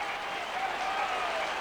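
Crowd at the 1975 football grand final between Norwood and Glenelg, a dense, steady roar of applause and cheering from a large stadium audience, continuous through the brief moment.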